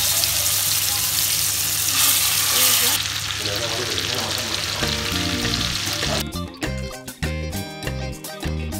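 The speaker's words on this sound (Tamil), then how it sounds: "பாருங்க அந்த முந்திரிலாம் ப்ரௌனாக வர ஆரம்பிச்சிருச்சு." Cashews frying in oil in a pan, a loud dense sizzling hiss that thins out partway through, with tonal background sound and some clattering near the end.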